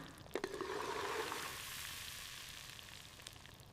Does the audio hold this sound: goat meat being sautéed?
yes